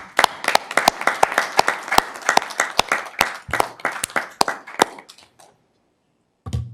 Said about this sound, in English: definitely think that's worthy of a round of applause